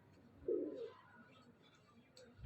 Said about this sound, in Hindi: ये जी कबूतर एक बार ऊपर से होकर नीचे आ रहे हैं जी।